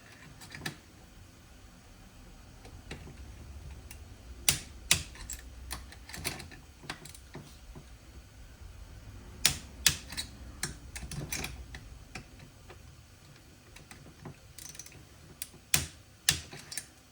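Torque wrench checking the cylinder bolts on a Holzfforma G466 Pro chainsaw: sharp, dry mechanical clicks arrive singly and in quick clusters, close and fairly loud against a quiet workshop background with no talking.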